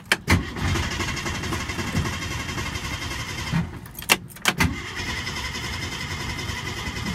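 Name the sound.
1964 car engine cranking, trying to start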